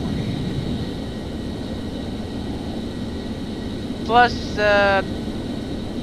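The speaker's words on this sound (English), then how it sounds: "The F-14 Tomcat" F-14 Tomcat jet engine in Ai Carriers2, a steady mid-level whooshing drone that runs throughout, with brief tonal chirps near the end.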